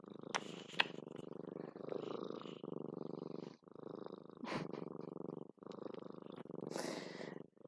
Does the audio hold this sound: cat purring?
yes